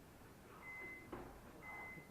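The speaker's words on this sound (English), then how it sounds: "My microwave's annoying, it keeps beeping at me." Two steady electronic beeps from a microwave oven sound about a second apart, faint against a low room hum and a soft thud between them, in a kitchen during a stovetop beer brew.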